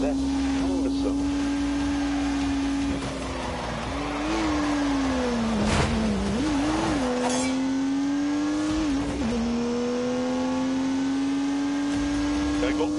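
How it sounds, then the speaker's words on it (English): A turbocharged 3-litre straight-six with 365 horsepower revs in a racing video game, holding a loud, steady engine drone with brief dips and surges in pitch midway before settling back to a constant high note. "unleashed 365 rampaging horsepower from the turbocharged 3-litre straight 6"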